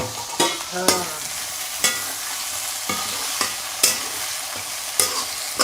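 Onion and tomatoes sizzling steadily in a pan for a crab curry, with a spoon scraping and stirring in regular strokes about once a second, close and clear with no talk.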